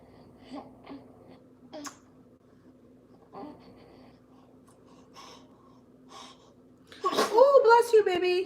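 A single sharp, loud sneeze bursts out near the end after a quiet stretch of faint, scattered vocal sounds and breaths.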